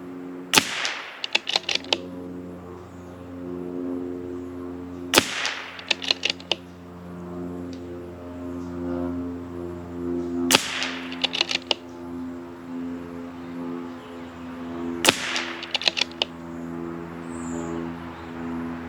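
Four spaced shots from an FX Wildcat .25 air rifle or a CZ 457 .22LR fired at a target, each a sharp crack followed by a few quick clicks of cycling, under a steady hum.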